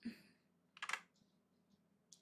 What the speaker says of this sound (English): Doing taps on the keyboard.